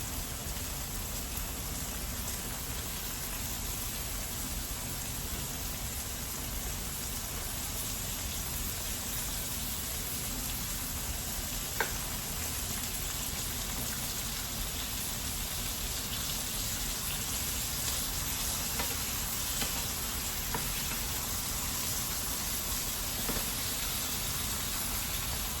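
Onions frying in a pan with shrinking coriander leaves, a steady, even hiss and crackle that holds low and constant throughout, with no voices.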